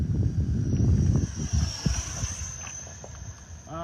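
An RC MiG-25 Foxbat model with twin 64mm electric ducted fans makes a pass at half throttle on its maiden flight, giving a steady high-pitched whine over a broad rushing, wind-like roar that holds fairly constant throughout.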